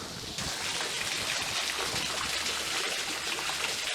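Water falls and splashes steadily inside a cave, Mayra ki Gufa, making a dense, hissing rush like a small stream. The sound is continuous and fairly close, with no voices over it.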